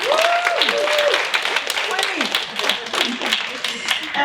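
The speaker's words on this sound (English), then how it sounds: "Let's give an applause to the queen." Audience applause at a forum on media, activism and an equal future for women and girls, a steady broadband patter of hands mixed with whoops and voices throughout.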